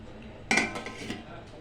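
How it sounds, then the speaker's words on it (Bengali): A lid is set down over a pot of boiled chowmein on a gas stove, giving one sharp metallic clank followed by a brief rattle and faint clinks as it settles, with no talk. "গ্যাসের নবটাকে বন্ধ করে দেব এবং চাউমিনটাকে ঢাকা দিয়ে রেখে দেব"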